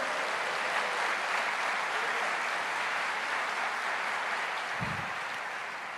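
A church congregation claps and applauds, making a dense, sustained roar of hands that stays steady and fairly loud before easing slightly at the end.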